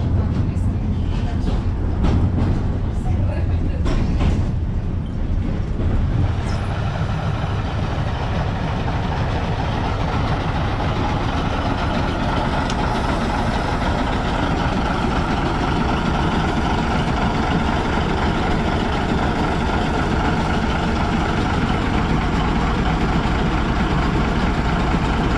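A narrow-gauge train engine idles at a terminal station, a steady low rumble that holds evenly throughout, with a few clanks near the start and no voices.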